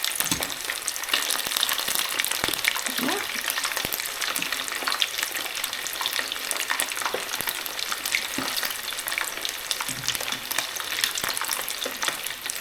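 Chicken wings deep-fry in oil for salt and pepper chilli wings, giving a dense, steady crackle and sizzle that runs unbroken throughout, with frequent small pops and no voices.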